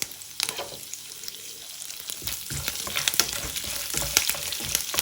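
Tempering of peanuts, chana dal, urad dal, mustard seeds, cumin and curry leaves sizzles and crackles in hot oil, with close stirring scrapes and sharp popping bursts.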